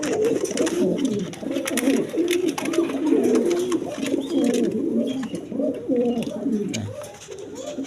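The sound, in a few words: pigeons cooing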